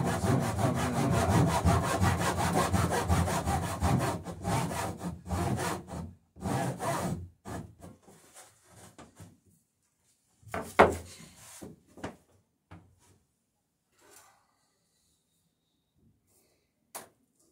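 Hand saw cutting about three quarters of an inch off a wooden boat rail cap at an angle, rapid rhythmic rasping strokes for several seconds, then slower scattered strokes and scraping knocks before quiet.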